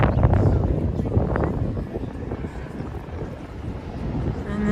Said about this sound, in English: It's very windy all of a sudden.